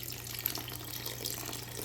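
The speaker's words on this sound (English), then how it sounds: "I'm gonna add about 730 grams of water" Water pours steadily from a jar into a mixing bowl for sourdough dough, a soft continuous splashing trickle, fairly quiet and with no talking.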